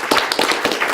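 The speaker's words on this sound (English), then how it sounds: "him a big round of applause" Scattered hand claps from an audience at a public school board meeting, a handful of sharp claps at an uneven rhythm over one second, close and fairly loud.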